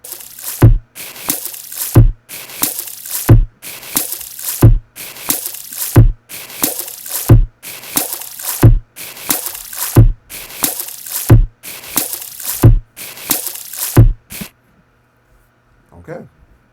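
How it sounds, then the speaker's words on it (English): A splash sound sampled from water while camping, chopped and looped into a beat: about eleven sharp, evenly spaced wet hits repeat in a steady rhythm with thick low thumps under each, then stop, leaving near silence. "Let's work on the splash sound."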